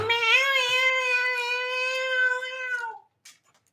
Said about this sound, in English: Do you guys hear her like just crying and whining? Like, I love Siamese cats, but oh my God, they do not stop.